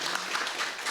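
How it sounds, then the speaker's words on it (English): A short burst of clapping from a crowd at a live sea shanty show, steady and moderately distant, with no talking over it. "Let's have a round of applause."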